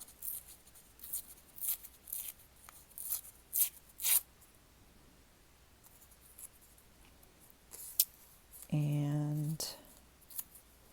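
Paper is torn into rough strips for a Halloween journal, heard as a run of short, crisp ripping bursts up close, followed by a brief tonal scrape; the room is otherwise quiet apart from a few soft words.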